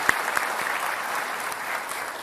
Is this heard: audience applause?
yes